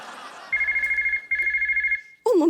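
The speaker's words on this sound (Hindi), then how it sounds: "ओ मम्मी का फोन।" A mobile phone ringtone sounds in two steady electronic bursts with a short gap between them, clear and close, before a voice cuts in at the end.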